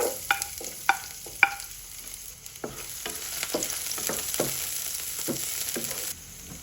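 Garlic sizzling in hot oil in a pan with a soft, steady crackle, broken by repeated scraping strokes of a spatula stirring it, close up and quiet, with no voices.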